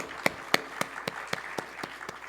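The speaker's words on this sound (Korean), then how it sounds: "우리 미디어 팀에게 격려의 박수 한번 했으면 좋겠습니다" A Sunday church congregation claps in unison for the media team, about nine crisp, evenly spaced beats over low background murmur, growing slightly softer toward the end.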